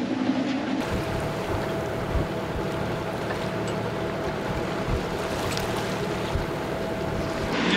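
Wind and water rush steadily around a sailboat sailing upwind off the Turkish coast, with hull splashes and a faint hum under the constant blustery noise.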